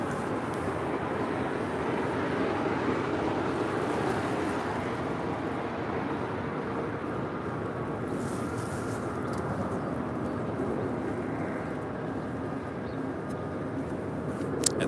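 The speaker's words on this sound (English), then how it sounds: "that is American Airlines Flight 1637 heading to Philadelphia in a 787-8 Dreamliner" An American Airlines Boeing 787-8 Dreamliner taxiing at LAX, a steady broad engine rumble and whine with wind-like noise, continuous and moderately loud throughout.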